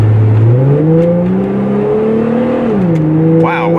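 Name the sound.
Plymouth Prowler car accelerating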